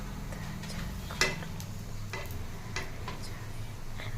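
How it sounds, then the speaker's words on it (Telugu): Rose cookie sweets fry in hot oil until golden brown, a continuous close sizzle with scraping stirs and an occasional sharp clink of metal against the pan, no voices. "గోల్డెన్ కలర్ బ్రౌన్ వచ్చే వరకు వేయించుకోవాలి. చాలా తొందరగా వేగిపోతూ ఉంటుంది."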